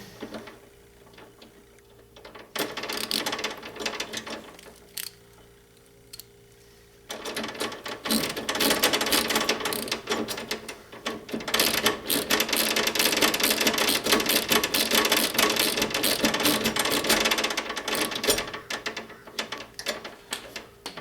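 Someone tightens down a replacement vending machine lock fitting, making quiet, repeated ratcheting clicks and metallic turning. The sound comes in short bursts with pauses, then a longer stretch of steady rapid ticking.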